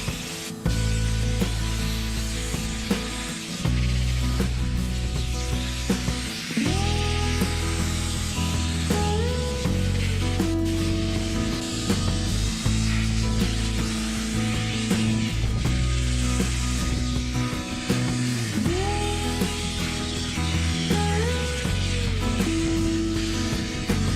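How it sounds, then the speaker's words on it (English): Sandblasting snowmobile running boards on an Arctic Cat Elan under rebuild, a continuous harsh hiss of blasting grit against cracked metal over a humming compressor with pitch shifts and pauses, loud and close with no voices. "that fun sandblasting really let us know how holy she is"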